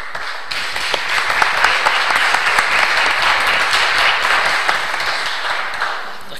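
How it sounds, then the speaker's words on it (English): An audience at a religious debate on the crucifixion breaks into loud, sustained applause that swells quickly and keeps going for several seconds, dense and even, with no talk over it. "Please, no comments and clapping and things like that."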